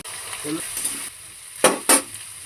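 Pumpkin and panch phoron spices frying in oil with bay leaf and dried chilli for a mixed vegetable curry: a soft sizzle gives way to two sharp, loud bursts of spattering crackle.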